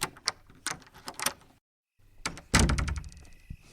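A heavy castle door opens with a series of wooden clunks and knocks, then a brief silence. A louder scraping thud follows as the door swings, ending in a final knock.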